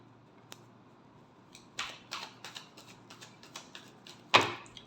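A deck of tarot cards being shuffled for the last time, heard as quick, crisp riffling clicks in short bursts with a sharper snap near the end, close and fairly quiet, with no speech.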